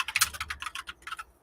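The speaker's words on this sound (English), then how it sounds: "My noisy keyboard." Noisy computer keyboard being typed on up close, a quick run of sharp, clacky key strikes in an uneven rhythm, with no voice over it.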